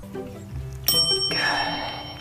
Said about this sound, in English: Hit the bell.